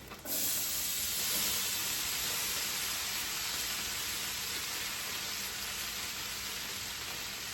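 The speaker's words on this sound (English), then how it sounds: "add in your 32-ounce bag of corn, of frozen corn that you thawed out" Thawed frozen corn from a 32-ounce bag hitting a hot pan, bursting into a loud, steady sizzling hiss that continues without a break, close.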